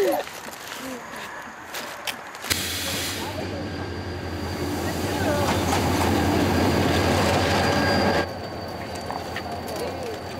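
A slow train on the Gyeongjeon Line in Korea rumbles along the rails with a steady low drone and hiss that swells loud midway, then eases off, while a voice talks faintly over it.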